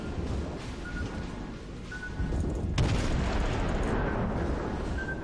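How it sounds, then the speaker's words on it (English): Heavy naval shellfire in World of Warships around a Tier II Chester class cruiser, a dense continuous rumble of distant artillery booms and splashes with a sharper blast near the middle, steady and loud throughout. "Still being shelled."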